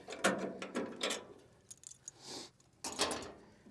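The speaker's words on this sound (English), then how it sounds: "So all we have to do here is pull our pins" Metal pins are pulled from the discharge chute of a Big Bear wood chipper, giving a series of quiet close-up clicks, scrapes and rattling metallic clanks in short irregular bursts.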